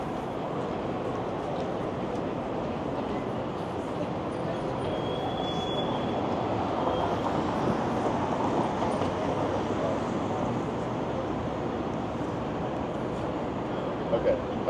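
A subway train rumbles steadily at King Station in Toronto, with a brief high wheel squeal; muffled voices can be heard beneath the noise.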